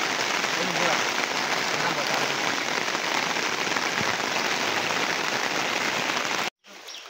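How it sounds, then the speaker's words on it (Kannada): Heavy monsoon rain in flood-hit Assam, a dense, steady hiss of downpour drumming on surfaces that fills the clip at close range before cutting off abruptly near the end. "ನೋಡಿದ್ರಲ್ಲ ಮಳೆ ನೋಡಿ"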